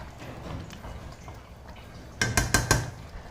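Utensil scraping and clinking against a pan while a potato dish with water is mixed, a few quick close stirs near the end after quieter kitchen sounds.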